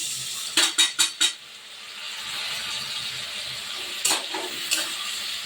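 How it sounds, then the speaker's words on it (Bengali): Spice paste hitting fried onion and potato in a hot pan for a lemon pomfret curry: four quick loud scrapes of a spatula, then a steady close sizzle with two more stirring knocks near the end. "পেঁয়াজটা একটু ভাজা হয়ে গেছে এবার আমি এই মশলাটা দিয়ে দিলাম"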